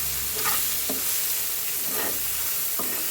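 Egg frying with onions in a pan makes a continuous loud sizzle and hiss, with a few brief stirring scrapes rising through it and no voices.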